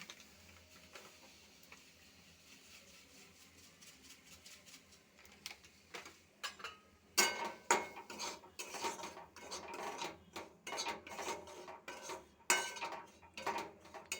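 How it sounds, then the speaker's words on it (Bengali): Semolina roasting in ghee in a kadai for suji halwa: a low, quiet hiss at first, then rapid, busy metallic scraping and clinking of a spatula stirring against the pan. "এবার আস্তে আস্তে সুজিটা ভেজে নেব হালকা ভাজবো"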